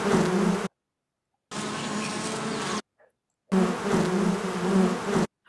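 Buzzing bees placed in a video game world as a looping ambient cue, heard as three steady droning bursts of insect buzz separated by short silent gaps.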